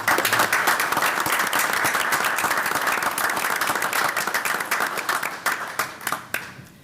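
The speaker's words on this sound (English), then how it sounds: "Let's give Hope Villages of America a round of applause." Sustained applause from a city council meeting audience fills the room, loud and steady, then thins into scattered claps as it fades toward the end.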